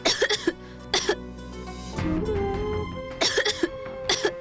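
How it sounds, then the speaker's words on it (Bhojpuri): A child coughs in short, harsh bursts close by, a quick pair, then single coughs, a longer rasping throat sound in the middle, and another cluster at the end. "पापा देखी भैया के खांसी होता।"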